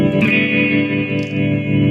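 Sustained electric guitar chord run through the tremolo effect of a BOSS DD-500 delay pedal, depth turned up so the tone wavers rhythmically and choppily, with no one speaking.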